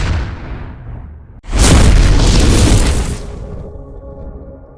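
An explosion near the Red Fort metro station in Delhi, caught in news footage: a sudden powerful boom cuts in after a quieter rumble, then a loud roaring blast that fades into a lingering tail.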